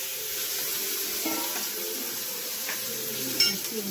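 Small shallots sautéing in a pan for a Tamil athalakkai poriyal, a steady soft sizzle of frying filling the clip with faint stirring and a brief scrape near the end.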